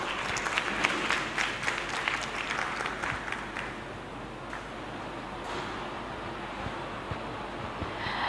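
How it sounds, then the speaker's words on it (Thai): A crowd claps steadily for several seconds, loud at first and then thinning out into scattered claps. "ขอเสียงปรบมือหน่อยค่ะ"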